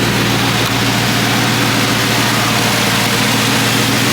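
A hot rod car engine runs loud and close at a Hot Rod Power Tour event, with a deep, steady rumble that sits near idle and shows only slight swells in pitch, heard alone with no talking.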